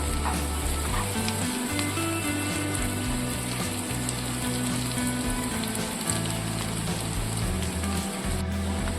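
Taro curry with salt, turmeric and chili powder sizzles steadily in a hot frying pan as it is stirred, a close, continuous crackle and hiss that holds at an even level throughout.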